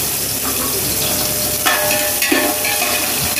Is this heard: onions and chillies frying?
yes